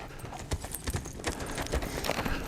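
A blind horse's hooves thud on the ground nearby in a quick, uneven clip-clop under steady background noise.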